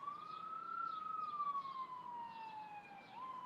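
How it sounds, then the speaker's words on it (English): An emergency vehicle siren wails outside, passing at a distance with a slow rising and falling tone, faint and alone. "Oh, another siren."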